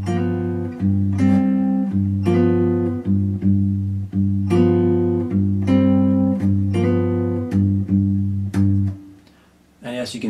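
Fingerpicked guitar, bare right-hand fingers and no pick, playing a 12-bar blues rhythm pattern in G with alternating bass notes and chords, steady and close for about nine seconds before a short pause.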